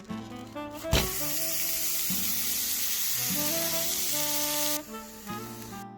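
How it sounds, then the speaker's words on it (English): Ground beef and onions sizzle in a skillet, a steady bright hiss that holds for several seconds over background music, then drops away near the end. "So we're cooking our ground beef up. We're cooking our onions with it."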